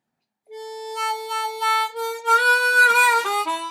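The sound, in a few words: harmonica playing lines 9 and 10 of a solo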